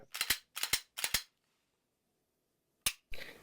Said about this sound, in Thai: ผมขอเคลียร์ปืนนะครับ